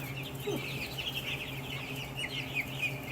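A Cornish Cross chicken gives soft, repeated clucks over a steady low background hum, fairly faint and close.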